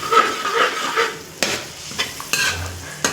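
A spoon stirs food in a pan with oyster sauce while it sizzles, giving scraping strokes and several sharp clacks against the metal, close and fairly loud.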